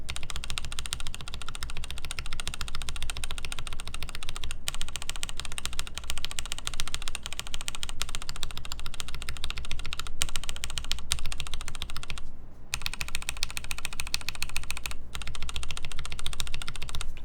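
Typing on a mechanical keyboard fitted with Desk keys keycaps and unfilmed TX switches in a Moon TKL v1 build: fast, continuous, deep-toned clacking, close and steady, with only brief pauses and no talking.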